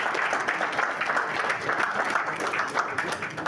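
Audience applause at a lecture event welcoming a Senate Committee on Navy deputy chairman, continuous mid-level clapping from a crowd throughout with faint voices mixed in.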